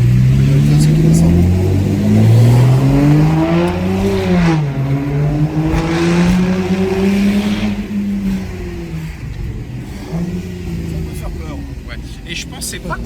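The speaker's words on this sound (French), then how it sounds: "Et je pensais pas qu'on entendait autant l'échappement" An Aston Martin DB9 Mansory's exhaust drones steadily while driving, its engine note rising and falling through gear changes, loud and close throughout, fading slightly toward the end, with people talking over it.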